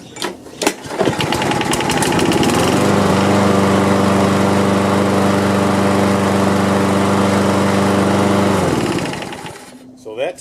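A gasoline lawn mower engine, just primed, fires up and runs loud and steady for about six seconds, then cuts out, with brief sounds before the start and after the stop.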